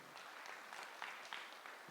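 Applause for World Athletics Championships medalists at a breakfast reception hosted by the Kenyan president, with a steady patter of clapping across the room and a few louder claps standing out.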